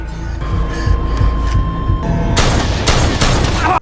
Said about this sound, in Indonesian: ia langsung menembaknya